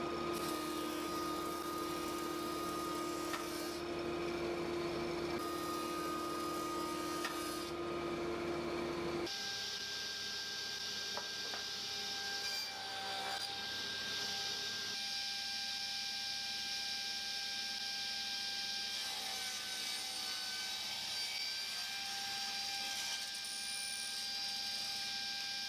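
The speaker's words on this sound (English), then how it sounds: "I'll plane them up now, put a groove in them for the bottom" A power tool planes and grooves strips of Fijian kauri timber, making a steady, loud machine drone with a constant hum. The pitch and tone shift partway through as the cut changes, and it runs continuously with no speech.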